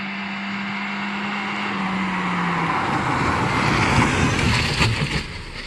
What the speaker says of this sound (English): the car was able to brake in a straight line from about 100 kilometers an hour without any excessive skidding